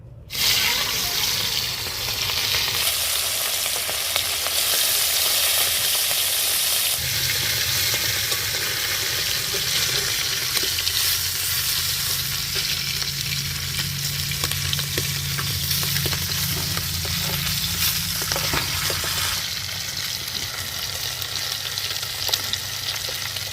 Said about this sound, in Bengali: বেগুন ভাজা তেলে মাছগুলোকে ভেজে নিচ্ছি।